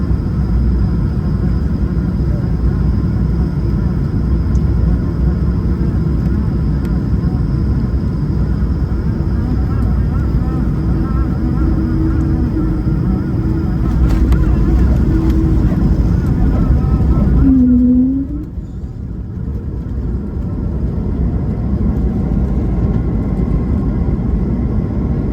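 Steady, loud airliner cabin roar during the landing into Dallas on an American Airlines flight, a constant broadband engine and air rush that dips suddenly near the end, with a brief tonal whine as the engine note changes.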